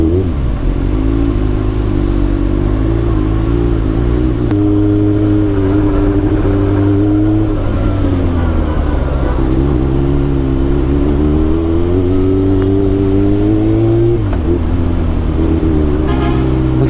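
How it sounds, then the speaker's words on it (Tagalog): Heavy road traffic on EDSA in Manila heard from a motorcycle, with a loud, continuous engine drone that rises and falls as vehicles accelerate nearby. "Traffic dito sa EDSA eh."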